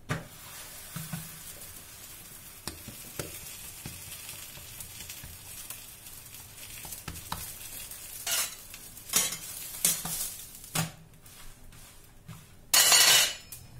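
Chicken rfissa being stirred in a Thermomix, soft sizzling under repeated scraping and clinking of a utensil against the pan, with a brief louder rattle near the end.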